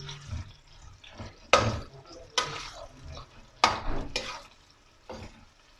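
Onions for vegetable pulao are stirred and browned in a pan, with a soft sizzle and sharp stirring scrapes every second or so, close and moderately loud, and no talking.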